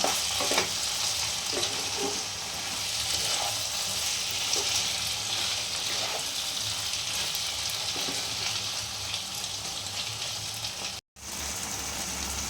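Soyabean chilli stir-fried with a spoonful of soy sauce, producing a steady, loud sizzle with intermittent scraping and stirring throughout and a brief dropout near the end, with no talking.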